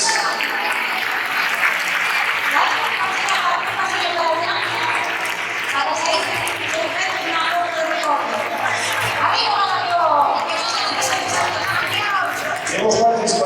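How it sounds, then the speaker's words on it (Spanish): An audience at a 2023 sports gala applauds strongly and continuously, a dense wash of clapping that runs throughout while voices talk over it. "Es un fortísimo aplauso para ellos."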